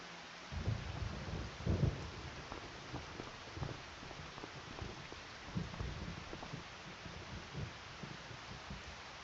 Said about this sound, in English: and the rain has just started.